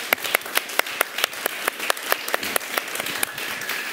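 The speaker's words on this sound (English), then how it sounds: "I shouldn't have been clapping myself" Applause closing a panel discussion on practising for a massive public disaster: sparse clapping from a small audience, individual claps distinct and fairly regular, moderately near.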